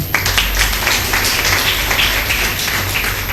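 An audience at a college interview event breaks into loud, dense applause, a continuous wash of many hands clapping that holds steady throughout.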